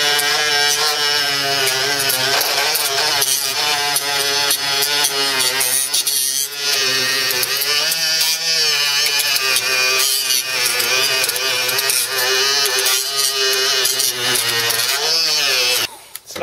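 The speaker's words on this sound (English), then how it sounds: "Now we have a simple little grinding wheel and a battery-powered trimming device, and we'll remove the paint." A small battery-powered grinding wheel strips paint from a surface, producing a loud continuous high whine with a rough, gritty edge that holds steady for the whole stretch before cutting off at the end.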